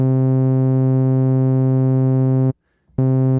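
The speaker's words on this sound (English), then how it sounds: "I'll usually just start with a saw wave and then introduce a filter" Serum synthesizer saw wave shaped by a filter, a steady, loud, buzzy sustained tone that cuts out for half a second and then resumes, with no voices.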